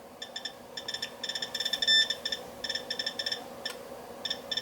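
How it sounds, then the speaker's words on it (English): Rapid electronic beeping from a radiation counter held to a radioactive vintage f/1.4 camera lens, bursts of quick high chirps speeding up and slowing in irregular clusters, close and fairly quiet with no talking. "listen to the change in the beep. This thing is super radioactive."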